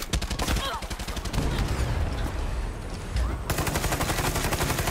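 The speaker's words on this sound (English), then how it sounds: "The bullets are bouncing off the roof, so it is bulletproof" Rapid bursts of gunfire strike a bulletproof vehicle roof in the video game Far Cry 6, a dense, loud stream of sharp impacts and shots that pauses briefly mid-clip before another sustained volley resumes, with no talk over it.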